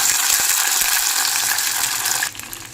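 Crushed garlic and curry leaves fry in oil with popped mustard seeds for a fish curry, giving a steady, close, bright sizzle that eases slightly near the end; no voices.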